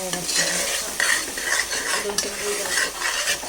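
Ground chili paste being stirred in a sizzling pan for khara bath, with a spoon scraping and clinking against the metal over a steady close frying hiss.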